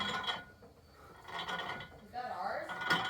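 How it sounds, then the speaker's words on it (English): A Samsung top-load washing machine makes a noisy, uneven rattling and clanking, like loose metal parts knocking, in irregular bursts at low level with faint voices around it. "you have a Samsung top load washer and it sounds like this."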